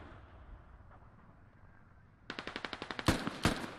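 Gunfire in the military shooter game Squad: a rapid automatic burst of about a dozen sharp shots, then two heavier, louder cracks close together, after a quiet start.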